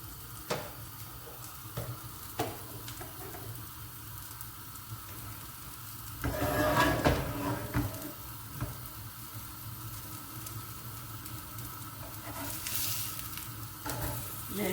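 Falafels frying over high gas in a pan, a steady close sizzle with occasional scrapes and stirring, swelling briefly louder midway as they are moved.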